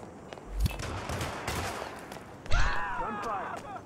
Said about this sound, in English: Gunfire! Stay alert.